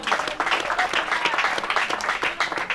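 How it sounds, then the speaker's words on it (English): Sustained applause from mourners at a funeral ceremony for a music figure in Igbanke, dense, steady clapping filling the space with a faint murmur of voices underneath. "Please clap for her, please."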